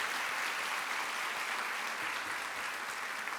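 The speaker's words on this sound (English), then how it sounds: "Let's give them a round of applause." A school audience at a 5th grade graduation claps for the fifth grade teachers, a dense, even wash of applause holding steady for a few seconds.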